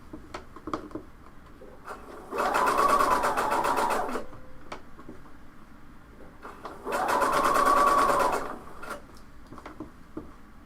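A sewing machine stitches a seam on a top in two bursts of about two seconds each, separated by a pause with faint handling clicks.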